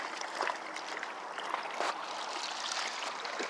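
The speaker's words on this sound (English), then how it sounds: "this is very relaxing, just hearing the sound of the water" Water lapping gently along the shore of the Courtney Campbell Causeway, a soft continuous wash with small splashes and trickles, close and fairly quiet, with no voices.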